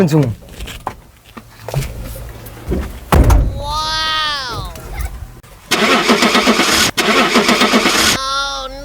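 A vehicle engine being started, with a door thunk, a cranking whine rising and falling, then the engine catching into a loud steady running rumble, mixed with talking and shouts.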